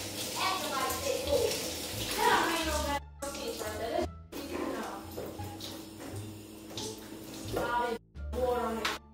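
Feet being washed under running water in a sink, with the tap's steady splashing heard close up while people talk over it.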